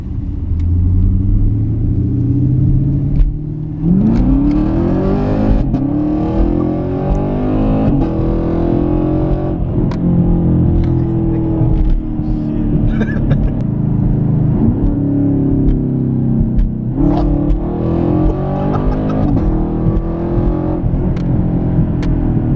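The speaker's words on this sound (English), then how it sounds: "So here's our first ride-in on an SS 2017 Camaro." Loud V8 roar from a 2017 Chevrolet Camaro SS heard from inside during a ride-in, revving up repeatedly with rising pitch through several gear shifts, close and continuous.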